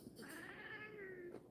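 A pet cat named Coco meows in one long, drawn-out, wavering cry, close and fairly loud, with no talking over it.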